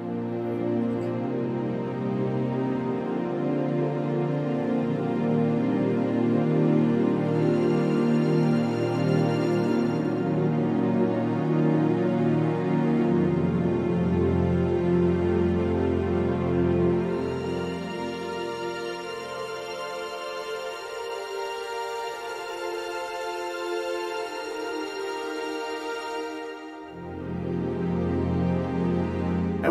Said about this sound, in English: when you have extremely good string sounds like this